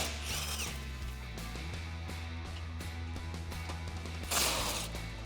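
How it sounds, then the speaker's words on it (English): A ratchet with a 16mm socket removing bolts from a skid plate on a Jeep Wrangler JL, giving continuous mechanical clicking and whirring close up, with a brief louder burst near the end. "I'm going to be using a 16mm socket to remove the 2 bolts that are holding it in."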